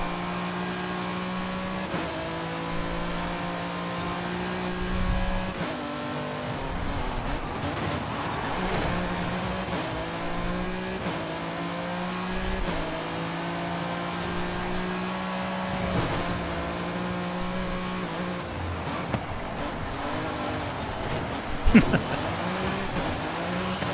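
Racing car engines in the Forza Horizon 5 video game drone steadily throughout, with gear-change dips in pitch every few seconds and a sharp impact thump near the end, loud and continuous with no talk.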